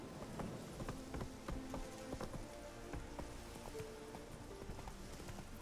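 Hooves of Roach, Geralt's horse in The Witcher 3: Hearts of Stone, clip-clopping in a steady trot over ground, moderately close, with a faint rain-like patter behind and no talk.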